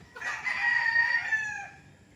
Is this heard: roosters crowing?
yes